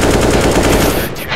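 Rapid automatic gunfire in CS:GO, a loud, close, steady rattle of shots in even succession that cuts off near the end.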